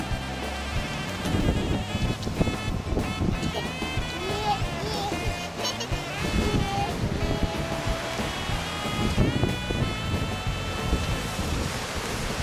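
Steady Pacific Ocean surf and gusting wind rumble continuously at a cliff at Point Lobos, loud and close, with wind buffeting the microphone.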